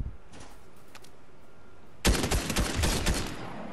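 Burst of rapid gunfire in the video game Fortnite Chapter 3, loud and dense, starting abruptly halfway through after quieter faint shots and continuing to the end.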